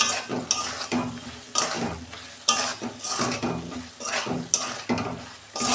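Vegetables stirred and fried in a pan with spices for red amaranth chorchori: a close sizzle broken by rhythmic spatula strokes scraping and clinking against the metal pan, about two per second, with no speech.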